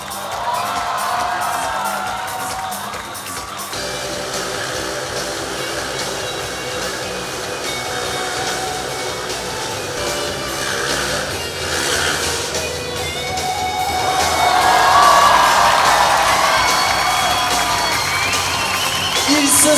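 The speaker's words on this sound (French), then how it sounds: "L'exploit technique allié à la créativité artistique des artistes a suscité cris d'émerveillement et applaudissements nourris" Crowd cheers, whoops and shouts of wonder at an acrobatics show in Paris, a continuous loud roar that swells toward the end, with voices mixed in.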